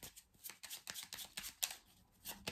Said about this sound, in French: on va recouvrir quelques cartes pour avoir plus d'informations.